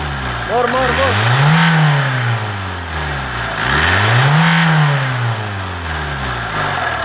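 A 2019 Hyundai Tucson with a D4HA engine that has a fault noise revs twice in long swells, rising and falling back toward idle, loud and close, with brief voices in between.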